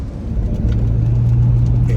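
A custom flatbed Jeep Gladiator on 40-inch tires with Dana 60 axles cruises slowly, its low engine drone and road rumble steady and close inside the cab.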